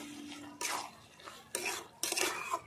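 A spoon stirs a Bengali curry of mussels with dried fish and Malabar spinach in a pot, three distinct scraping strokes against the metal in a quiet kitchen.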